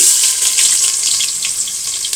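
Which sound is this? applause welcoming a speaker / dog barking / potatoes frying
potatoes frying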